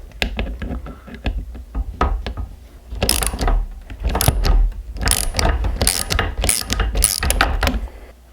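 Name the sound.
wrench undoing a nut on motorcycle lever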